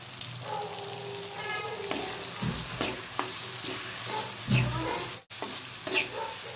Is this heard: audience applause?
no